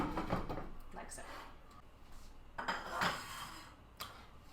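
A pot on medium to high heat is stirred with a utensil, giving faint scrapes and clinks against the metal, then a lid is set down with a light clatter, all quiet and close.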